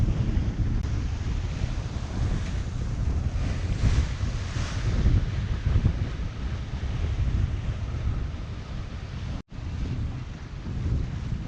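Strong, gusty wind roars across the microphone aboard the sailboat Hallberg-Rassy 54 while waves rush and slosh along the hull, a continuous loud blustery noise with no talking.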